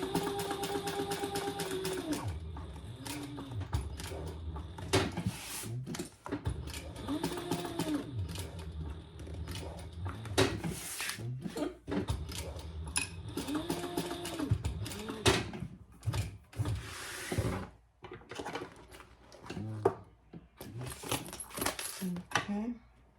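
A sewing machine stitching a TPU vinyl cosmetic pouch, whirring in repeated runs with clinks and rattles between them while a person talks over the machine.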